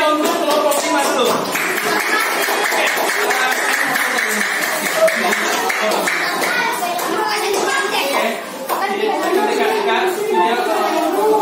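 A classroom of students claps for a presenting group, with dense broadband hand clapping mixed with chatter and children's voices throughout, loud and sustained.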